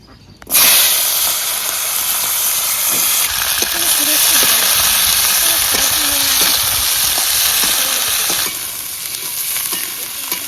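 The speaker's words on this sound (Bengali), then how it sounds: "ভাজার তেলেই আমি এই বীজটা ভেজে নেব" Seeds hit hot oil with an abrupt loud hiss that settles into a dense, continuous sizzle, close up, easing slightly near the end.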